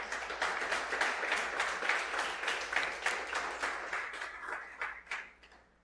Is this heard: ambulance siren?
no